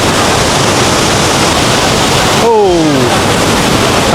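Steady, loud roar of the Rhine Falls in Switzerland, a broad continuous wash of falling water filling the whole clip, with a brief tonal sweep cutting through midway.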